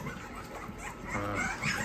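Hungry pocket bully puppies whimper and yip in a litter. Their high, wavering cries are faint and overlap with quiet rustling close by.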